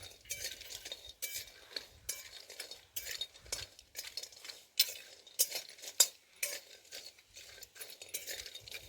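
Cinnamon dry-roasting with a little oil in a pan, heard as soft, repeated scraping and stirring strokes with light metallic clinks, fairly quiet and close, with no voices.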